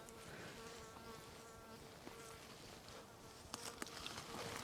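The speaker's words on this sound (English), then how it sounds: "I think this bee or whatever it is mad." A bee buzzes close by at a berry bush in the Idaho Panhandle National Forest, a faint steady droning hum that wavers in pitch as it moves, over quiet outdoor ambience.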